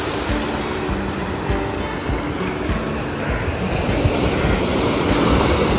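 Ocean waves at Mandavi Beach, Ratnagiri, give a continuous loud roar of surf with a broad rushing wash and wind noise, steady and close throughout, with no talk.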